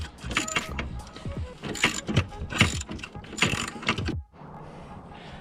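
A 1/4 inch drive ratchet with an extension and swivel works on a Ford Fiesta ST during a boost hose install, giving close, irregular bursts of clicking and metallic rattling before a quieter hum takes over.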